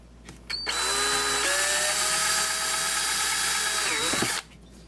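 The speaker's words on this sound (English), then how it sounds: "So I'm going to drill two 2mm holes there for some mounting screws." A power drill boring 2 mm and 4 mm holes into an Xbox One controller shell, a steady high-pitched whine held for about three seconds, with the pitch shifting partway through before it stops abruptly. Close and loud, with no talking.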